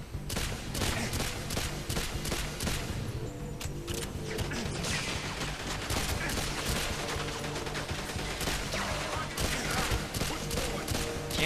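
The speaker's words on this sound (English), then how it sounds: "Can't get anywhere without being shot at these days, man" Gunfire in 007 GoldenEye Reloaded: dense, rapid volleys of shots and automatic bursts crackle almost continuously at close range, with brief impact crashes mixed in.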